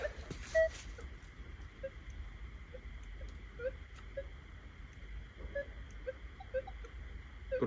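A Minelab Equinox metal detector searching in the ground emits a string of faint, short target beeps, irregularly spaced and fairly quiet over steady hiss, with one louder chirp near the start.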